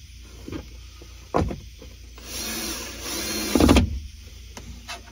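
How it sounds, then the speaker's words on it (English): A power drill whirs in a sustained burst while driving screws into a Hyundai Genesis Coupe trunk, with a few short clunks of handling before and after. "if you are using a power tool, please don't do it too tight"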